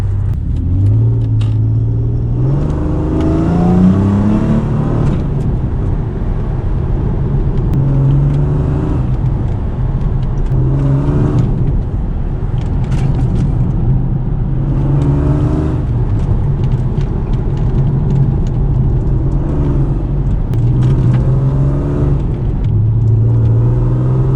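A Mercedes W203 C32 AMG engine pulls hard through repeated rising revs, each climb cut short by a gear shift, a loud continuous growl heard from inside the car.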